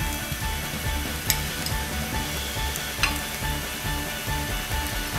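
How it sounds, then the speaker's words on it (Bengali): Onions and spices sizzle steadily in a pan for Bengali mola fish curry, a dense continuous frying hiss with a few sharp clicks of a spoon stirring, with music running underneath. "পেঁয়াজ হালকা ভেজে নিয়েছি আমি, এখন এতে মশলাগুলো দিয়ে দেব।"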